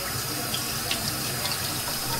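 Tap water runs steadily into a sink to rinse vacuum cleaner parts during belt replacement and cleaning, a close, continuous splashing stream heard alone.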